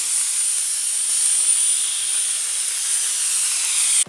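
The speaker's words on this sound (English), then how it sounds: "here's the Star Trek's Enterprise being propelled with real-life ion propulsion" Steady, even hiss of ion wind propulsion driving a Star Trek Enterprise model with modified nacelles, continuous and fairly loud with no variation, cutting off abruptly at the end.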